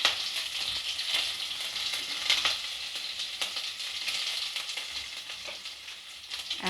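Mustard seeds, ginger and green chili sauté in hot oil, sizzling steadily and crackling up close with occasional stirring scrapes.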